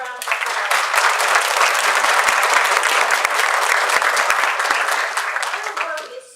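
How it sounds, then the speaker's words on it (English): Sustained applause from a large audience at a university radiologic technology pinning ceremony, dense steady clapping that holds for several seconds, then begins to thin out at the end. "Let's give them a round of applause."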